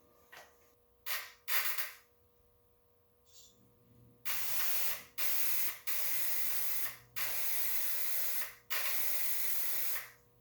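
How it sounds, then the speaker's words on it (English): Carb cleaner sprays in repeated hissing bursts through a fuel injector from a Honda B18B1 engine, pressurized by a battery charger. A few short spurts come first, then several longer, loud sprays separated by brief pauses. "I'm going to pump carb cleaner through it"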